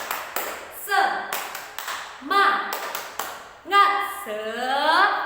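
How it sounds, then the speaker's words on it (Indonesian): A class of young pupils performs a 'tepuk semangat' rhythmic clapping routine, sharp claps in a patterned beat interleaved with loud chanted voices, close and lively. "Kita tepuk semangat dulu ya."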